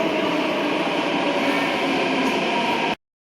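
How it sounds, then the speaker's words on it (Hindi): A metro train pulls into an underground station with a loud, steady rumble and roar that holds level for about three seconds, then cuts off abruptly. "आ गई मेट्रो।"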